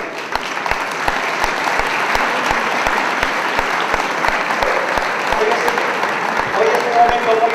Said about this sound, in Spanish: para ellos quiero que les brindemos un fuerte aplauso